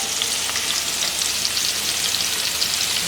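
Onion frying in a pan during home cooking, a dense steady sizzle heard up close with no voices.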